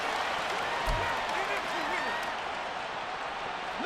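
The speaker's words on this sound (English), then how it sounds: "This crowd turning up the decibel level" A stadium crowd in a football video game keeps up a loud, continuous roar of cheering, with a commentator's voice running over it.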